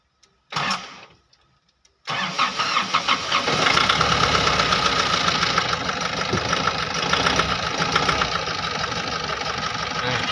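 A high-roof Nissan Urvan van cranks briefly on its starter, pauses, then fires up and settles into a steady, rattly diesel-like idle, close and loud without speech.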